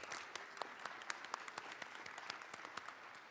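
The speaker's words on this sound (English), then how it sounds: "Let's give them a round of applause." A small audience at a city council meeting claps steadily for several seconds, a dense patter of many hands with sharper individual claps standing out, moderately close and with no talk.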